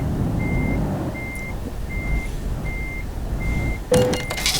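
A truck in Euro Truck Simulator 2 backs up, its reversing alarm giving five evenly spaced beeps over a loud, steady engine rumble, ending with a sharp thunk and clatter.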